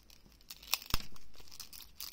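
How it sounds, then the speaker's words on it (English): Packaging crinkles and tears open as a pack of cards from a Seria dollar-store haul is unwrapped, with a few sharp rips and rustles close to the microphone in a quiet room. "maybe we should open this and look at the cards"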